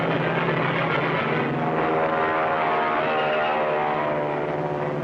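A twin-engine P-38 Lightning fighter plane roars with its throttle wide open, a loud, steady, dense engine drone that fills the whole span without a break and with no voices over it.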